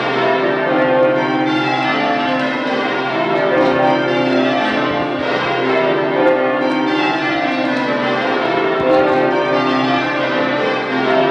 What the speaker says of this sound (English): you can actually hear them. That's nice, Toby, wasn't it? That was just the quarter past on the clock.